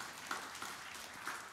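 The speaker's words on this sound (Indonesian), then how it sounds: "Tepuk tangan yang meriah bagi Tuhan Yesus." A congregation at a church service applauds, a faint, distant wash of steady clapping with no clear individual claps standing out.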